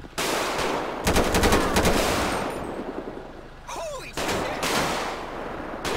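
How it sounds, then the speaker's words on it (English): Bursts of automatic gunfire from a GTA 5 police mod shootout, loud, close and rapid, in several sharp volleys separated by brief gaps. "I'm gonna give him a couple shots."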